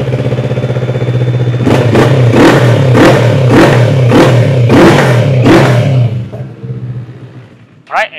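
A 2018 CF Moto 650 MT motorcycle with an aftermarket exhaust revs up in a series of about eight sharp, loud throttle blips over a steady idle rumble, then settles down.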